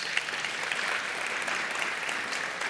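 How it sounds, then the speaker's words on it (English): An audience at a State of the City address gives a round of applause, dense steady clapping from many hands throughout, fairly even in loudness. "We'll give them a round of applause as well"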